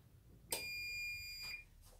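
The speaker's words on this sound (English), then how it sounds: "And there's the buzzer on the oven, ready for it" A faint electronic oven timer buzzer sounds one long tone of about a second, then a quieter, shorter repeat follows, with no voices nearby.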